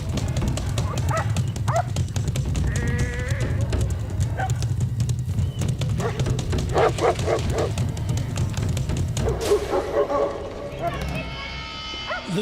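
Livestock guardian dogs bark in short, repeated bursts close by, alerting to a bear in dense bush, over a low rumbling background, with some whining and a brief scuffle near the end.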